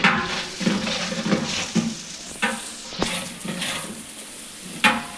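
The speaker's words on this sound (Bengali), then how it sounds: "এবার পেঁয়াজগুলো একটু নেড়ে চেড়ে দিতে হবে যাতে পুড়ে না যায়।" Sliced onions with bay leaves fry with a steady sizzle while a utensil stirs and scrapes the pan, giving irregular clinks and scrapes close up, with no talking.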